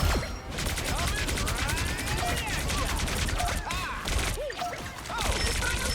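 Sustained video-game gunfire rattles at Loki clones, dense volleys with crashing impacts and swooping effects throughout, while players talk over the action.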